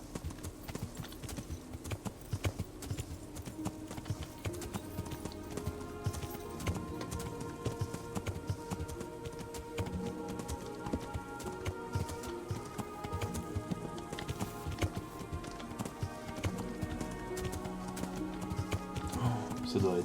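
Continuous galloping hoofbeats of a horse in the medieval video game Kingdom Come: Deliverance drum rapidly and evenly, with faint game music beneath and a player's voice now and then.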